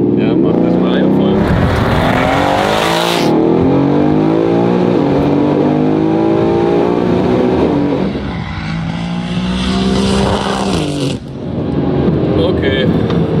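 A GAD-Motors-tuned Mercedes C63 W205 with 4Matic+ and about 1300 hp revs hard at full throttle, its loud engine roar rising and falling across repeated bursts while people talk over it.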